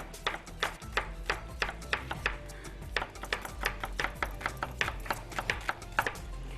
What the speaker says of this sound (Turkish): Soğanı da doğramaya devam ediyoruz orada kıyma kavrulurken.